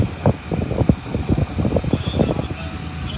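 High, frigid wind gusts and roars at a burning duplex in Carl Junction, a loud, continuous buffeting rush that thumps against the microphone in irregular bursts.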